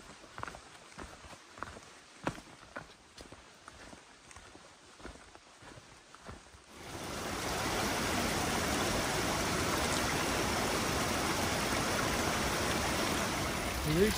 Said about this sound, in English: Big waterfall up there.